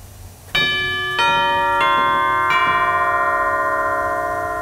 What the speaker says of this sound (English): How about the cathedral chimes?